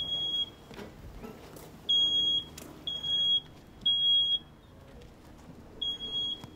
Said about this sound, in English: just that little bit of initial smoke sets that detector off